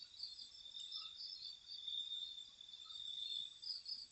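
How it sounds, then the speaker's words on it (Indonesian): Crickets chirp at night near a river, a continuous high, buzzing trill that pulses gently and stays soft and steady throughout, with no voices. "Ini ada suara jangkrik"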